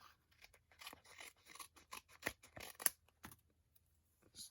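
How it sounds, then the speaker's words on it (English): Scissors trim a small piece of adhesive sheet with a run of quick, close, quiet snips and short cutting strokes, separated by brief pauses. "Just trim that little piece off."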